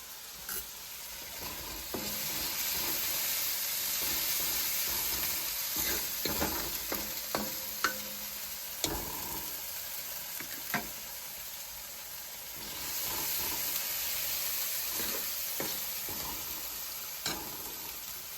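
Soft continuous sizzle of ground spice paste and coriander powder frying in oil, with frequent clinks and scrapes of a spoon stirring the pan.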